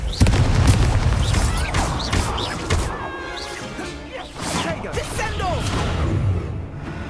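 An Incendio fire spell cast in the game Hogwarts Legacy, part of a run of spell casts: whooshing bursts and booming impacts recur one after another, mixed with someone shouting spell names over the clashing effects.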